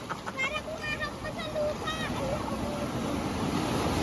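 Rain-lashed sea waves wash and splash steadily at the Maragondon sanctuary, a continuous broad rush with people and children talking and calling out over the water.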